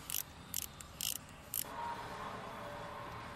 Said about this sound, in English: With your E12, you'll start taking down your bolts, and you want to start on the dowel sides